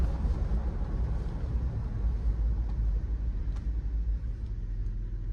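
Third-generation Toyota 4Runner on the move after a brake booster replacement, a steady low cabin rumble of engine and road noise with a few faint ticks and no talk.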